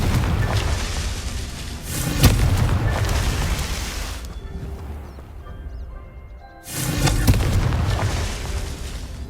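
A Confringo fire spell in Hogwarts Legacy, loud booming blasts with a rumbling roar that cuts to a brief lull, then returns as another heavy burst.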